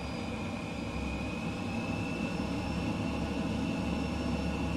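Steady, droning jet engine roar from an F-15E flying low over lake country in Microsoft Flight Simulator 2020, continuous and even with a thin high whine, no talk.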